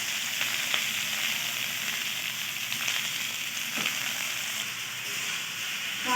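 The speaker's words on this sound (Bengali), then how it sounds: "চালটা আমি কিছু সময় ধরে নাড়তে থাকবো।" Soaked rice frying in a pan with cashews and raisins, a steady soft sizzle with occasional stirring taps and scrapes, continuous and moderately quiet.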